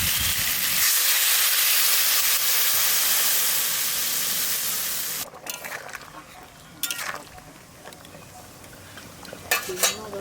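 Water poured into a hot pan of spiced curry bursts into a loud hissing rush of steam for several seconds, then drops to a quieter simmer with occasional clinks of a utensil against the pan.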